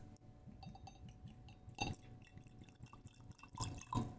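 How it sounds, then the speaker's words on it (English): Reposado tequila from a natural-cork bottle trickles into a glass in close, quiet drips and splashes, with light clinks of glass and no talking. "Let's put a little bit in the glass."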